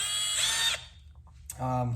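A Milwaukee M12 Gen3 hammer drill (3404-20) runs at speed setting 6, giving a bright high-pitched whir that spins up and cuts off, close by, with someone talking right after it.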